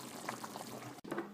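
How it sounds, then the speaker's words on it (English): Hot water drains off boiled potatoes for mashed potatoes, a continuous close splashing pour that breaks off for an instant and then resumes. "Just drain the water off."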